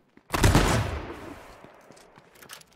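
Gunfire from a shooting exchange in the video game H1Z1 King of the Kill: a loud burst of shots with a sharp onset, then a long decaying echo and a few fainter shots near the end, with no talk.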